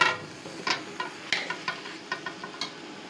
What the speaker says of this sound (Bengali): আমি এখন সাজনাগুলো দিয়ে দিব, এখানে দিয়ে দিলাম আমি সাজনাগুলো।